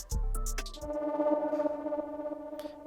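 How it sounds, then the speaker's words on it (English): Dark synth texture layer from the Diva VST, with reverb and delay, opening on a few struck plucky notes that settle into a sustained, shimmering tonal drone, alone and fairly full. "So next I added another texture layer from Diva, and this is what it sounds like."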